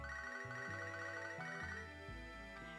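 Pokégear phone ringtone from the Pokémon HeartGold video game, a steady chiptune melody of stepped tones that loops without pause for a few seconds, playing alone at an even level.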